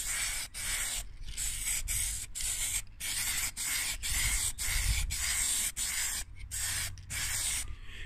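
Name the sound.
spray painting plastic computer case with plastic paint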